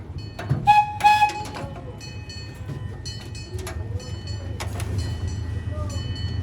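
A small park railroad train pulls away with a steady low rumble and rattle, and sharp metallic squeals and clanks break in near the start and again later.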